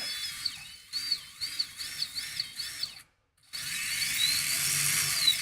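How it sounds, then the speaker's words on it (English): Electric motor spinning an ungreased gearbox on a crawler build, giving a whirring, warbling whine in rhythmic pulses, then a short silence and a louder, steadier grinding run, close and without speech. "Is the motor spinning the right way?"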